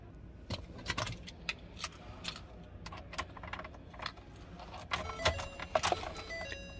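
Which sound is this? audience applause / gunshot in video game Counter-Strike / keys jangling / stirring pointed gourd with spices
keys jangling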